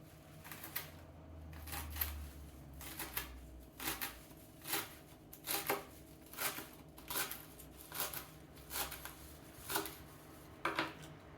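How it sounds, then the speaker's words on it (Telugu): Knife chopping amaranth (thotakura) leaves finely on a board in a home kitchen, a run of crisp, evenly spaced cuts close up, with no talking. "దీన్ని సన్నగా కట్ చేసుకుని నీళ్ళల్లో వేసుకుందాం."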